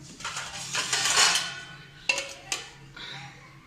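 Dishes and a lid clatter while food is being covered in a home kitchen, with a rustling scrape followed by two sharp clinks of metal and crockery, close and moderately loud.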